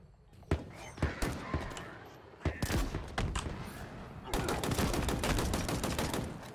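Gunfire in the Halo Infinite video game crackles in rapid bursts and single sharp shots, with denser automatic fire toward the end, loud and close.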